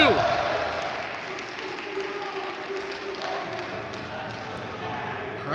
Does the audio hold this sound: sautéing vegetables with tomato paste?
no